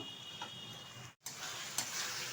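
Masala with country chicken frying on high heat for a potato curry: a steady close sizzle with light stirring, briefly cut off by a short silent gap before resuming, no voices.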